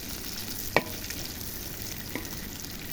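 Four green chillies and a chopped onion sizzle and get stirred in a wok of leftover fish-frying oil, a steady soft hiss broken by a couple of sharp utensil clinks.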